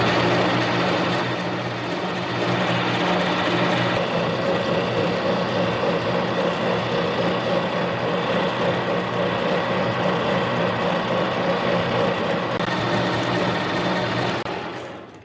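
A Harbor Freight mini lathe hums and whirs steadily with a tonal drone while a jobber-length drill bit grinds through metal, continuous for the whole stretch.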